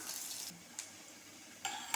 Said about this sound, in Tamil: இப்போ அடுப்பு ஆஃப் பண்ணிவிட்டு நம்ம சட்னியை சேர்த்துக்கணும்